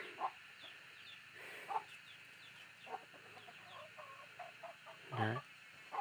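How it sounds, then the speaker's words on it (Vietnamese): Jungle fowl, long-legged with sharp spurs, give scattered soft clucks at a farm, with a louder call near the end and faint bird chirps in the background. "Chính hãng gà rừng rặc"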